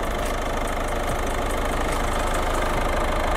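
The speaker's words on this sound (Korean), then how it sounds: "엔진 소리 일정합니다." A Peugeot 208 1.6 e-HDi diesel engine idling under an open bonnet, a steady, even clatter and hum heard up close with no speech.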